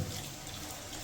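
Water pours steadily into a pan of cooked spices in a Bengali kitchen, a continuous close hiss and splash lasting the whole short moment.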